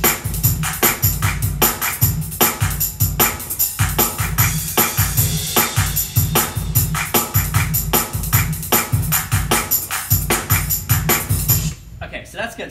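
Korg PA1000 arranger keyboard style with chord variation played at a faster tempo, dense drums and accompaniment pulsing steadily and loudly before cutting off near the end.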